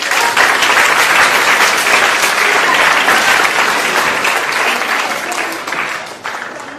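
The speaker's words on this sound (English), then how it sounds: "round of applause" An audience at a live seminar on communication and personality development gives a sustained, loud round of applause that tapers slightly toward the end.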